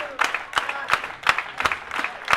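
Crowd at a pro wrestling anniversary show in Shinjuku claps in a steady, even rhythm to cheer on a wrestler caught in a sleeper hold, with about six loud, sharp clap bursts spaced evenly apart.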